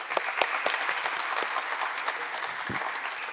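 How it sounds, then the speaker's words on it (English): Audience applause for a panel at a conference session on secondhand smoke prevention, dense and even clapping from a roomful of people, continuous and fairly loud throughout. "If we could give our panel a nice round of applause again."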